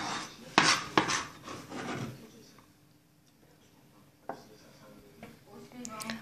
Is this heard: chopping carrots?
yes